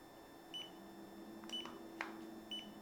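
Short high electronic beeps from a Segway Ninebot Kickscooter ES2/ES4 electric scooter pairing repeat at roughly half-second intervals over a quiet background hum, clear and close.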